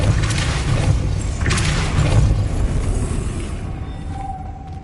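A Depulso spell in Hogwarts Legacy lands as a pair of heavy whooshing booms, each with a crunching impact, followed by a fading low rumble and a faint high tone.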